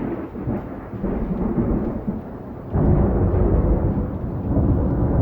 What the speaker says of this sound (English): it's raining out right now and got a little thunderstorm going on.